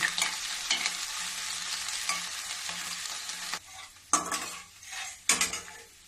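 Ginger stirred and roasted in oil for a carrot, cauliflower and turnip pickle, a steady sizzle with a spoon scraping the pan in repeated strokes, close and alone, with a few sharper clinks near the end.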